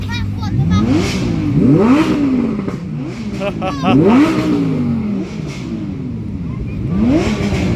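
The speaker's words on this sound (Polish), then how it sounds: "Tu mają teraz mały problem z wycofaniem się tego Ferrari." A Ferrari's engine is revved repeatedly while the car reverses out of a tight spot at a wedding gathering, with several sharp rising and falling revs at close range. People talk in the background.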